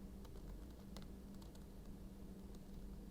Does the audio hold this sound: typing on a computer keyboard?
yes